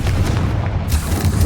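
The Confringo fire spell in the Hogwarts Legacy video game bursts as a short, loud, booming blast with a deep rumbling body.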